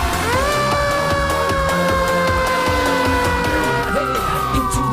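A toy fire truck siren wails loudly and continuously at close range, its rising and falling electronic tones layered over a steady buzzing rhythm.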